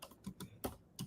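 Computer keyboard typing as a quick run of four or five soft, close keystroke clicks in an irregular rhythm, heard alone without speech.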